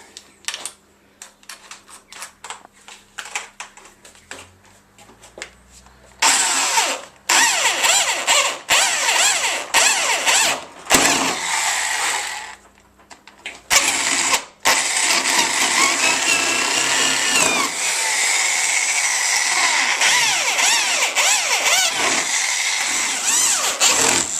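A power drill bores holes in a workpiece, widening them out to 13mm in a home garage; short bursts of whirring give way to long, loud, continuous drilling with brief pauses between holes.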